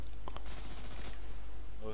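Burst of rapid gunfire from Ghost in the Shell, a dense rattling volley of about half a second, with a few brief clicks just before it and low game rumble and distant ambience running underneath.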